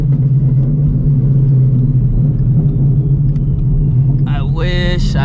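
Deep, steady engine drone from a 900-horsepower Shelby GT350 during a hard 100 to 150 mph pull, a constant loud rumble heard from inside the car, with a brief voice near the end.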